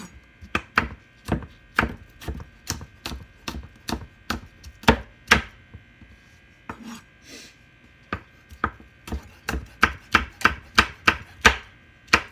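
A big kitchen knife chops peppers on a board in quick bursts of sharp, evenly spaced knocks, pausing briefly midway before resuming faster, close and crisp over a faint electrical hum.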